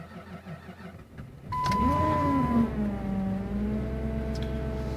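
A Jeep Commander with the 4.7 engine cold-starting at -25°C: a brief cranking whine, then the engine catches and settles into a steady rough idle with a falling tone, close and alone.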